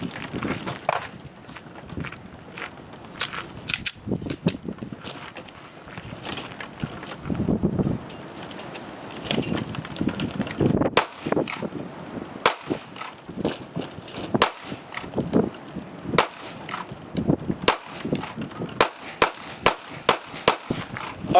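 Pistol shots fired with a two-handed grip at a range, aiming by the front sight tip only with the rear sight taped over, crack out as sharp loud reports, about a dozen spaced irregularly over wind noise, quickening toward the end.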